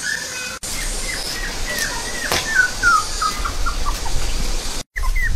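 Fat puppies about twenty days old give a series of thin, high, descending whimpers and squeaks, repeated close by over a steady outdoor background.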